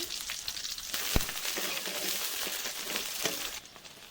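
Steady, loud sizzling of chopped onions frying in hot oil in a wok, a dense crackle running throughout with a brief sharp clink partway.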